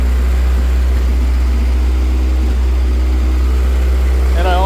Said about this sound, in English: I hear the occasional burble. I think those are misfires.